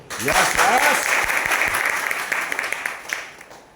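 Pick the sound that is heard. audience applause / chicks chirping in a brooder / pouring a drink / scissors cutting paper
audience applause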